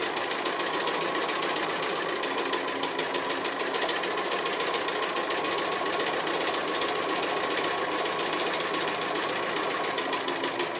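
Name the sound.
sewing machine stitching an applique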